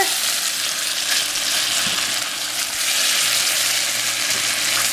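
Salisbury steak patties frying in a pan, a steady, close, loud sizzle that carries evenly through the whole stretch with no talking.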